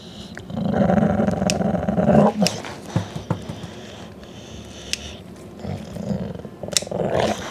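Dog growling during nail clipping: a close, loud, rumbling growl in sustained bursts with short gaps and clicks between them.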